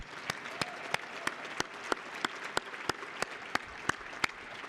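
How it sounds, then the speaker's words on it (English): An audience at the TAPS Honor Guard Gala applauds, with sharp, evenly spaced claps standing out above a soft, continuous bed of clapping throughout. "Can we do another round of applause for Belinda O'Connor?"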